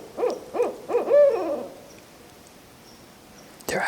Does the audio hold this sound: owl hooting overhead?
yes